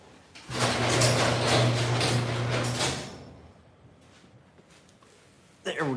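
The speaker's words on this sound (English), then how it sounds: "I'm going to close my garage door." A garage door closes with a loud rolling, grinding mechanical rumble lasting about two and a half seconds, then fades out to quiet room tone before a short clatter.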